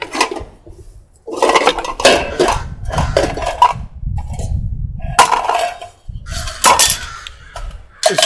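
New metal gold pans for separating gold from concentrates being handled, with a series of sharp clanks and rattles coming in irregular bursts with short pauses, close and fairly loud.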